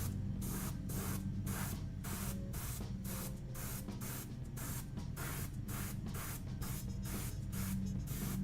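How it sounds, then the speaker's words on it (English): An airbrush sprays the last coat of paint in a steady, close hiss that pulses in short, regular bursts as the trigger is worked, with no talk. "This is the last coat for the airbrush."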